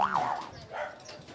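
A dog at a house gives a few short yips and barks, fairly close, with people talking around it.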